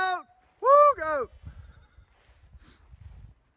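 Goats on a small farm give two loud, close bleats in quick succession, followed by soft rustling and shuffling; a voice calls out before and between them.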